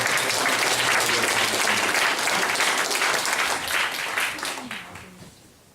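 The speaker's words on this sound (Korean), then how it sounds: "박수와 격려를" A church congregation at a Sunday Christmas-season service applauds in a full, steady wash of clapping that fades out over the last second or so.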